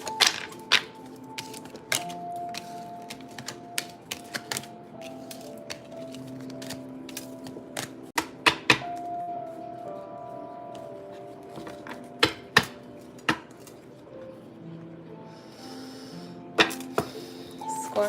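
A deck of tarot cards is shuffled and cut on a table, giving repeated sharp riffling slaps and flicks at an irregular rhythm, close and fairly quiet, with no talking.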